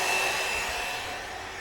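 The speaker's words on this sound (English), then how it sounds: "with these, we got the vacuum on" A vacuum hums and whooshes steadily over an above-ground pool liner, a continuous broadband roar held at a constant level close by with no voices.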